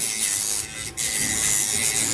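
A rotary tool fitted with a 60 grit sanding bit grinds a soldering iron tip at low pressure, giving a continuous close, hissing, scratchy whir with two brief dips in the middle.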